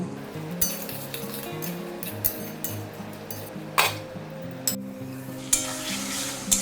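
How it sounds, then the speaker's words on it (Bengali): Fried potatoes stirred and frying in masala for a prawn fritter curry, a steady sizzle under repeated sharp clinks and scrapes of a utensil against the pan at an irregular rhythm, close and fairly loud. "এই সময় আমি দিয়ে দেবো ভেজে রাখা আলুটা একটু ভেজে নেব"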